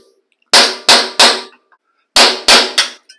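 A hammer and punch drive a rivet out of a GM Squarebody truck rear axle, giving two sets of three loud, sharp metallic strikes close by, with a brief silence between the sets.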